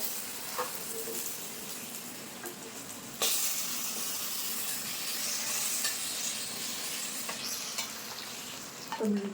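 Jalebi coils fry in hot oil with a continuous bright sizzle that swells louder partway through as the spirals are turned, a few light clinks from a utensil, and no talking.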